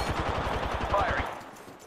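Apex Legends video game gunfire: a fast, evenly spaced burst of automatic shots, loud and close, that cuts off after about a second and leaves quieter game ambience.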